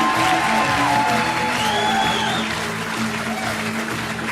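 An audience applauds diploma recipients at a ceremony, steady dense clapping from a crowd that fills the space and fades slightly toward the end, with faint tonal sounds and murmuring voices mixed in.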